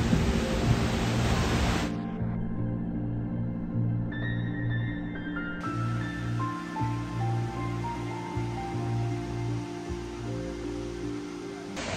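A powerful waterfall roars as a dense, steady wash of rushing water and spray, heard up close and continuous throughout.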